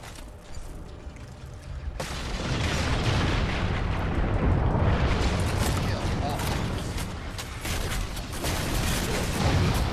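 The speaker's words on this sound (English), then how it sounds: "Awesome shooting with this rifle gun. Oh, whoa, that's a great grenade." Rifle fire and a booming grenade explosion from the Halo 4 video game, loud and continuous, with rumbling blasts filling most of the stretch after a quieter opening.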